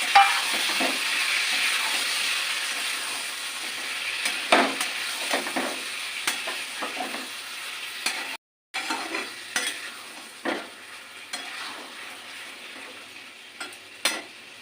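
Paneer stir-fried with spices in a pan: a steady sizzle runs throughout, broken by repeated scraping strokes of a spatula, with one brief silent gap partway through.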